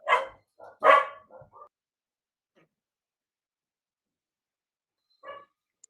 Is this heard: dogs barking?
yes